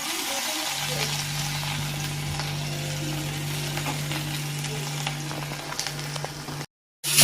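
Ginger-garlic paste and turmeric fry in hot oil for a Bengali vegetable chop, a steady, close sizzle with a low hum underneath and faint stirring, cutting out abruptly near the end.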